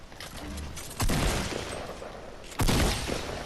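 Gunfire in a battle-royale video game, two loud bursts of shots about a second and a half apart over steady background game noise, with no talk over them.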